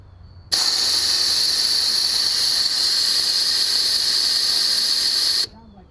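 Compressed air blasts through the fuel system of a 1974 Chevrolet Nova and hisses out of the fuel tank, a loud steady hiss lasting about five seconds that starts and stops abruptly.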